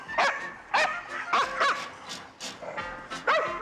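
A small dog that loves people but reacts to other dogs barks repeatedly in short yapping bursts, about seven close, loud barks with some whiny yips over roughly four seconds, with no talking.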